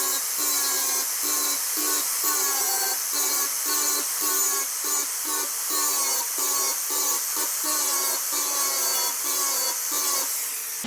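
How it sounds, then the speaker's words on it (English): Planishing hammer working welds smooth on the steel body of a 1962 Cadillac Series 60, a fast rapid-fire rattle broken into short bursts with brief pauses, close and steady throughout with no talk. "I'm going to plenish this a little bit, allow the metal to come back up"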